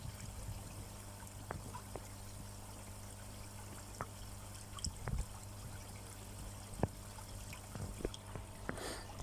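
Water from a koi pond pump circulating through the pond, a soft steady trickling stream with occasional faint drips and splashes, quiet and continuous with no talking.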